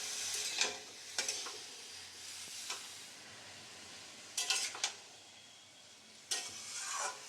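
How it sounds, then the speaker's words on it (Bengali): Bottle gourd pieces stirred in ghee in a pan, a faint soft sizzle broken by a few brief scraping strokes of a spoon, close and quiet with no voices. "লাউগুলো ঘিয়ের মধ্যে দিয়ে একটু নাড়াচাড়া করে নেব।"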